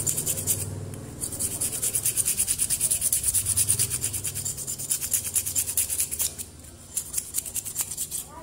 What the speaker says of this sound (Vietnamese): Cạo sạch cái răng cũ.